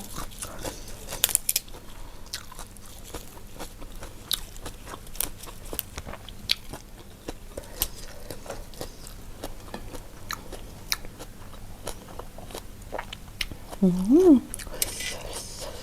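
Someone bites into big wraps of fresh vegetables stuffed with fermented pork, making close, moist crunching and chewing in scattered bites over a quiet background, with a brief voice near the end.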